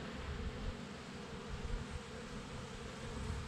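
Honeybees drone in a soft, steady buzz around an open hive during an inspection, a faint continuous hum with no talking.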